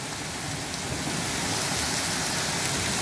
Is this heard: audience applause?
no